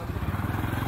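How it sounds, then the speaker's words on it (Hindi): A motorcycle ridden past outside a sports shop, its engine giving a rapid, pulsing low putter that is close and steady over a brief moment. "अंकल ऐसे बाइक चला रहे हैं जैसे कि कोई नौजवान बाइक चला रहे हो।"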